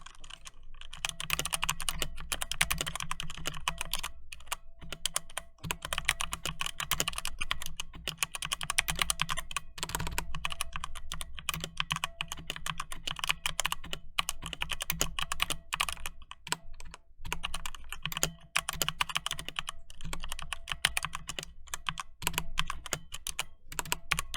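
Steady, rapid clacking of an E-Yooso K-620 hot-swap mechanical keyboard being typed on, continuous keystrokes with no talking.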